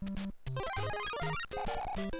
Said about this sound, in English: that sound is the same sound you hear in Super Mario 3, like when someone's trying to stop